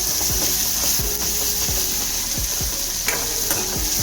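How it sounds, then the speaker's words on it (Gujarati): Tomatoes sautéing with garlic in a pan, a steady loud sizzle with a spatula scraping and stirring in repeated strokes, close up and without speech. "હવે આપણે ટમેટાને સોતરી લેવાના."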